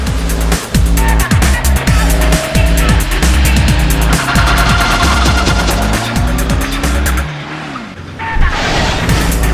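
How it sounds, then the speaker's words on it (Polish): Car driving through a city at about 60 km/h, with loud, continuous engine and road noise, tyre sounds and some sharp transient clatter throughout, easing off slightly near the end. "Podczas próby przejadę przez miasto z prędkością 60 km na godzinę."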